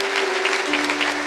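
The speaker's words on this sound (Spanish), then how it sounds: "Reconozcámosles con un fuerte aplauso a todos estos héroes anónimos" A church congregation bursts into loud, dense applause, a continuous roar of many hands clapping close by with a steady hum underneath.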